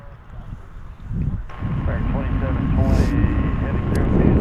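A Lufthansa airliner at DFW Airport in Dallas, Texas gives off a continuous jet roar that builds and holds steady, mixed with wind buffeting on the microphone and voices talking nearby.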